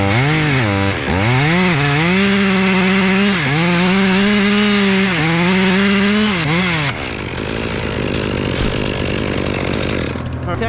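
A chainsaw cuts into a split oak tree during a climb, loud and close, its engine revving up and down several times before settling into a steady, strained cutting drone.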